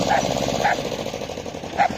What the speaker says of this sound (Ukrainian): На коти гавкаєш.